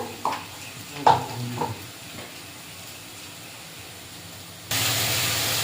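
Spice paste of ground chilli, turmeric and salt stirred in hot oil for a Bengali fish curry, with a few spoon scrapes at the start, a steady soft sizzle, and a louder hiss near the end.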